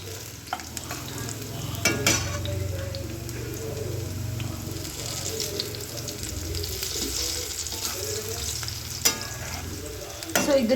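Spices fry in a pan for a Kannada home dish, a continuous sizzle with scraping stir strokes and occasional clinks of the utensil against the pan, close and steady.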